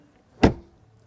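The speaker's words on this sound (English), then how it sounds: "Then door closing sound." Door of a BMW X6 shutting once with a solid, close thud, then a short fade into quiet.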